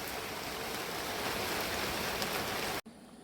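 Heavy rain pours down in a steady, dense roar, then cuts off abruptly near the end, leaving a quieter hiss.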